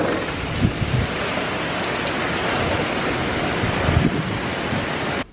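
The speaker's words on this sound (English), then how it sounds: "Rain is starting to come down a bit harder." Heavy rain pours down steadily outdoors near Indian Rocks Beach ahead of an approaching storm, a dense, constant hiss of falling water with faint low rumbles and no voices.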